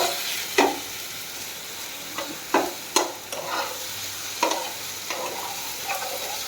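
Spices and vegetables are sautéed in a pan for a Bengali festive meal, a soft steady sizzle broken by several sharp scrapes and knocks of a spatula stirring, close up with no talking.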